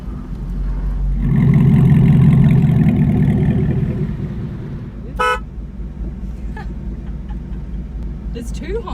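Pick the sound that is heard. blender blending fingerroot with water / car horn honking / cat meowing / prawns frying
car horn honking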